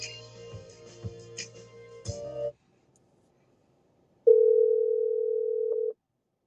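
A telephone dial tone comes in as a steady, loud hum lasting under two seconds, then cuts off abruptly. Before it, background music plays and then stops, leaving silence.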